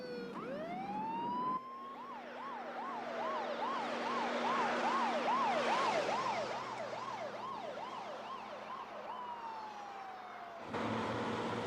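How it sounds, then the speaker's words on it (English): An ambulance siren wails in a rapid rising-and-falling yelp as it comes off the interstate, loud and steady with the vehicle's engine rumbling underneath, then cuts back to a steady tone near the end. "here comes the ambulance off the interstate"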